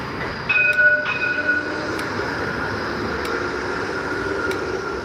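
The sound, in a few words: tram passing on a city street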